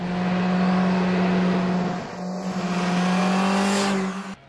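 An MV Agusta Brutale naked motorcycle ridden fast gives a loud, steady engine drone that dips briefly midway and then surges on, with no talking.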